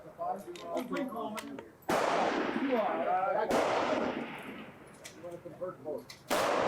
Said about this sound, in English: this is still going to be a 15-round match, so there's going to be a lot of shooting here